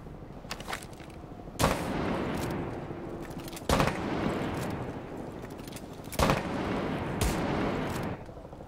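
Gunfire in the tactical shooter Rainbow Six Siege: a handful of sharp, loud reports spaced a few seconds apart, with lighter clicks and a continuous busy game ambience beneath them.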